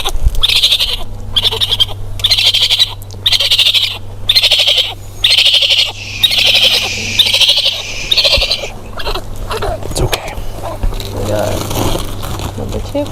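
A series of high, shrill chittering cries from baby raccoons repeats in regular bursts, about one per half second, loud and close, before fading into softer rustling noise.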